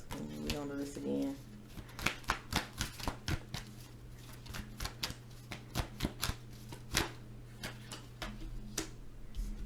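Tarot cards being shuffled by hand: a run of quick papery riffles and taps, irregular but steady, close and fairly quiet, over a low electrical hum with a brief voice at the start.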